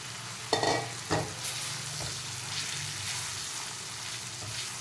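Spiny gourd (kankoda) pieces stirred in a hot pan with ginger, a steady frying sizzle throughout, with two sharp scraping stirs near the start before it settles into a constant crackle.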